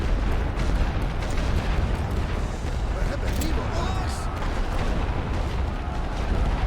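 Continuous rumble of artillery fire and scattered gunfire from the World War I strategy game The Great War: Western Front, with booms rolling together into a dense, loud barrage throughout.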